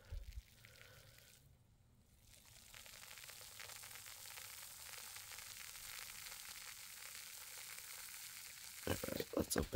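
Fine bubbles of a shaken Liquid I.V. electrolyte drink fizz in a steady, faint close-up hiss, with a few louder crackles and handling noises at the end.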